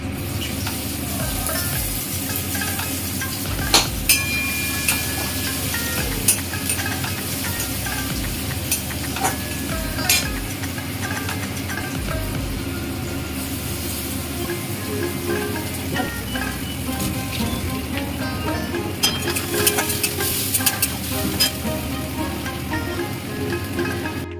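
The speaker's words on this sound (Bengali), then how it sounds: "কুচি করে রাখা পেঁয়াজগুলো আমি এবার তেলটা গরম হয়ে গেছে দিয়ে দেবো।" Chopped onions fry in hot oil for a Bengali-style crab curry, a continuous close sizzle like rain with occasional louder crackles and stirring scrapes throughout.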